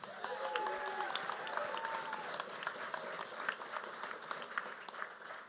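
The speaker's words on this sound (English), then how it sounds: "One more round of applause for the CTF team and the winners." Conference audience at a security event gives a round of applause, dense clapping heard fairly evenly throughout at moderate volume from a roomful of people.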